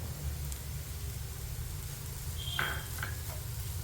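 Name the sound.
grated coconut frying in a pan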